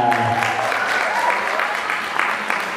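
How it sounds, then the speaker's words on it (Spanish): Audience applause for Sandra Thomas at a pageant modeling show in the intermediate category, a steady wash of clapping lasting a few seconds with a voice faintly audible near the start. "Y vamos a darle un fuerte y merecido aplauso a Sandra Thomas."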